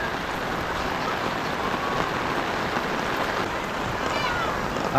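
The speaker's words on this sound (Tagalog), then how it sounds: "12 AM na bang gabi, umuulan." Steady rain falls at night during a typhoon in the Philippines, a continuous hiss, a dense wash of drops with no other clear sounds.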